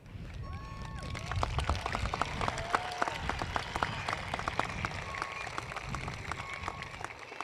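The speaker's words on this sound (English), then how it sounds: "Please join me and give ourselves a round of applause" Graduating high school class and crowd applauding at a commencement ceremony, steady distant clapping spread through a large open space, moderately quiet, with scattered sharper claps and faint background voices.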